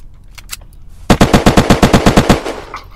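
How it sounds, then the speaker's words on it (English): A rapid burst of about a dozen machine gun shots fires in even succession from a PvP raid in the video game Unturned. Loud, close and sharp, with quieter game sounds before and after. "I emptied my mag into his face."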